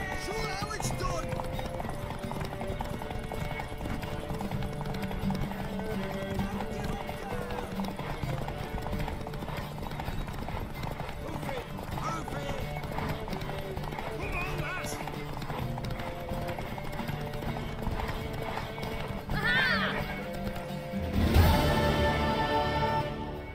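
Horse hooves clip-clop steadily and continuously in The Witcher 3: Wild Hunt video game, mixed under game dialogue, with a louder burst of movement near the end.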